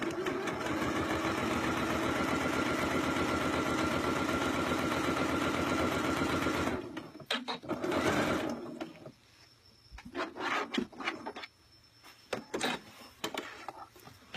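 Sewing machine basting stitches around a narrow hem, a fast steady mechanical whir for about seven seconds, then stopping, followed by scattered handling clicks and rustles.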